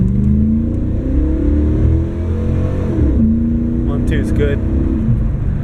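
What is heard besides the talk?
car engine revving hard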